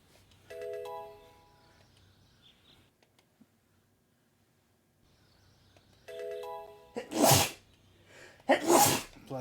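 Two sharp, loud sneezes from a Pokémon Colosseum game character follow each other closely near the end, after a short electronic chime pattern and a quiet gap.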